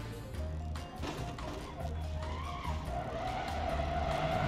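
Porsche Taycan skidding out of control in the BeamNG Drive driving game: a loud, continuous tire screech and engine roar with rough scraping bursts, steady throughout.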